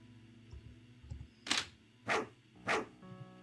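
Three loud, evenly spaced barks from a giant dog in an RPG Maker video game ring out over a quiet electronic hum, with soft thuds before them.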